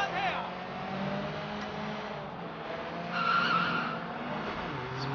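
Car tires skid and squeal while drifting in a street race in Sleeping Dogs, with engine roar underneath and a sharper squeal rising midway, close and steady throughout.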